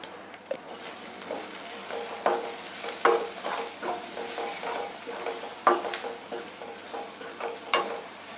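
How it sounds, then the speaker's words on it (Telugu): Browned onions fry in a pan as turmeric goes in, for a dried fish and bottle gourd curry: continuous close sizzling broken by repeated scraping stirs and light clinks of a utensil on the pan. "ఇప్పుడైతే ఆనియన్స్ మంచిగా బ్రౌన్ కలర్ వచ్చాయి కదా, కొంచెం అయితే పసుపు వేస్తున్నాం"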